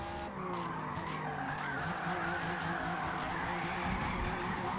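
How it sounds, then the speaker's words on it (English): Continuous engine roar with drift car tires skidding and squealing in a racing video game, loud and steady throughout. "you can hear the sound effects of the car moving in the background"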